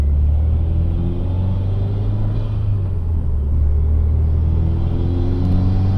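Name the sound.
Subaru WRX turbo engine pulling in air while accelerating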